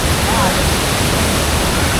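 Steady, loud rush of water at Taytay Falls, a cold waterfall in the Philippines, forming a dense, unbroken roar that fills the whole moment with no distinct pauses.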